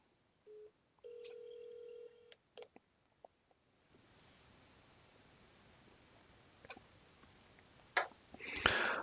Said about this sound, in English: So now the call is arriving.